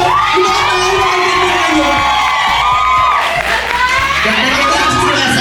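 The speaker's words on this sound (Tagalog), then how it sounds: "Palakpakan natin, Arizona. Palakpak ka na!" A loud studio crowd cheers, whoops and shrieks for drag performer Arizona on a drag competition show, dense continuous yelling with some clapping and voices mixed in throughout.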